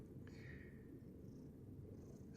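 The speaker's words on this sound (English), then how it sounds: "he's purring" A house cat purrs close by in a soft, continuous low rumble, quiet and steady with no talking.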